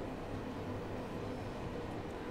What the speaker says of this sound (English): The train's now coasting at this point.